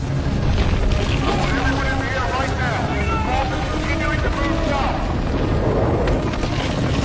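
A helicopter lifts off during an earthquake disaster scene in an end-of-the-world film. Its loud, dense rotor and engine roar stays steady throughout, and voices and dramatic effects are mixed in.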